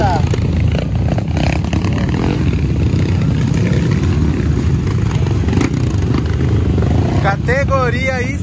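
Several motocross motorcycle engines whine and rev loudly and continuously during velocross practice, like a pack of dirt bikes racing past, with a short voice near the end.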